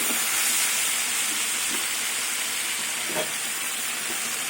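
Spinach frying in a pan with grated ginger for a Bengali spinach curry: a steady, close sizzle with brief louder crackles and faint stirring scrapes, no voices.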